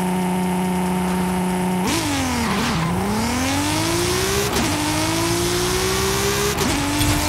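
Race car in Forza Horizon 5 holding a steady high rev, then launching with anti-lag, its engine note dipping and climbing loudly through several gear changes with crackling bursts, no talking.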